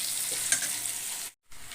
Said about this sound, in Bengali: আমি রাইসের জন্য এখানে আদা কাঁচা লঙ্কা পেঁয়াজ ভালো করে ভেজে নিচ্ছি